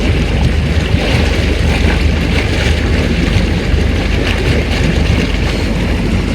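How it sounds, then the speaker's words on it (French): Air-bubble jets churning in a mini pool spa, a dense continuous broadband bubbling and hissing roar, loud and close, steady throughout with no talk. "Là, c'est les bulles d'air."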